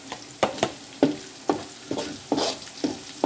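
Onions sautéing in a pan for pork bopis, a steady sizzle broken by sharp, rhythmic scrapes and stirs of a utensil roughly every half second, close and clear with no talking.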